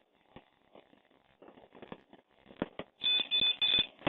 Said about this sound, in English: I'm going to turn it on and hold it until I hear 3 beeps